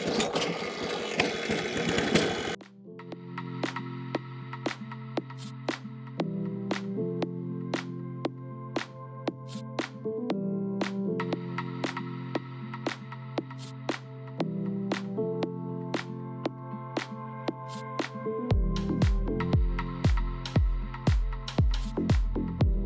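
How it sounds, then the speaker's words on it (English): An old scarifier/verticutter lawn machine sputters into life after a brief noisy start, then runs with a steady buzzing drone and repeated sharp clicks before changing pitch near the end, close and loud, with no speech. "get the verticutter out and just run it across it"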